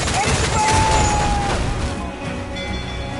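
Ship cannons boom in a naval battle in Assassin's Creed Freedom Cry, heavy blasts and crashing that build into a dense barrage, with shouting voices mixed in.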